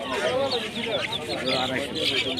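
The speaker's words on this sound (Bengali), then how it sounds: "আর ফার্মি মুরগি" Chickens, including farm-raised hens, at a village poultry market, a dense chorus of clucks and bird chirps close by, mixed with overlapping market chatter throughout.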